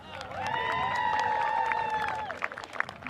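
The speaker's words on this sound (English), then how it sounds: "We found the cheer section." An audience at a 2021 St. Bernard's senior awards ceremony lets out a sustained, rising cheer of whoops and raised voices over crowd noise, tapering off after about two seconds into scattered claps and chatter.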